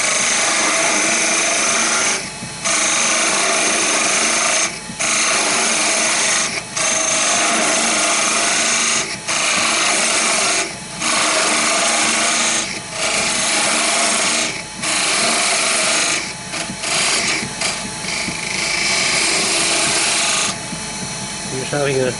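A wooden chess king piece turns on a lathe while a tool scrapes and rasps against it in repeated passes, loud and close, broken by short pauses.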